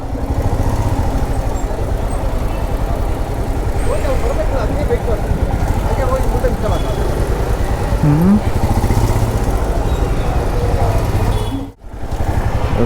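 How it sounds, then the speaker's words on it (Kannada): A motorcycle rides through heavy city traffic, its engine droning steadily up close amid the wash of surrounding vehicles and occasional horn, with a person talking over the noise. "ಫುಲ್ ಟ್ರಾಫಿಕ್ ಆಗಿದೆ ಇಲ್ಲಿ ಇಲ್ಲೇ ಲೆಫ್ಟಿಗೆ ತಗೋಬೇಕು"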